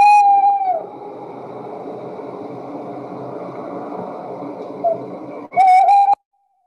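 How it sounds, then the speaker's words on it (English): A male tawny owl's hooting song: a clear hoot, a long pause with faint background hiss, then a quavering, wavering hoot phrase, loud and close. "So that's the song of the male tawny owl"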